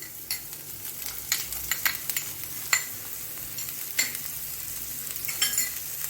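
Onion and mixed vegetables for ragi soup frying in a pan and being stirred, a steady soft sizzle with irregular scraping and clattering stirs throughout, close and alone with no voices.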